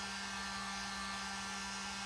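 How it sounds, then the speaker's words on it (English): A hair dryer blows steadily and close by, drying paint on a burlap candy corn craft, a constant whooshing hum with a faint tonal whine and no talking. "I'm going to dry the paint on this."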